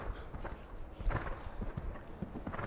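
A horse walking, its hooves clip-clopping in a steady, regular beat at close range during a calm groundwork session, with no talk over the footfalls.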